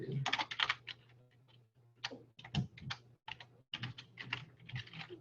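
Quick bursts of typing on a computer keyboard, close and clicky, in uneven runs broken by short pauses, while a faint steady hum sits underneath.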